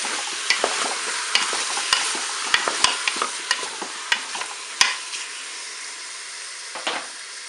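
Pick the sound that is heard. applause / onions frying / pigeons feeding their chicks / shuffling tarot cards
onions frying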